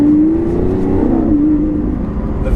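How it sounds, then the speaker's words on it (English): A Lamborghini Aventador V12 revs with its exhaust valves open, a loud, close, steady engine roar that holds its pitch and then dips briefly before settling back. "the V12, and there is no sound like a Lamborghini V12."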